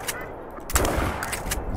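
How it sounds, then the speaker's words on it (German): A single sharp rifle gunshot in the hunting game theHunter: Call of the Wild cracks out at a moderate distance, followed by a brief rumbling echo over a steady background hum. "Der Schuss, der saß auf jeden Fall."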